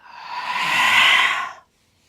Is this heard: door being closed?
no